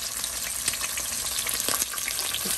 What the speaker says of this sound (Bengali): মাছ ভাজা চলছে, কিছুটা ভেজে নিয়েছি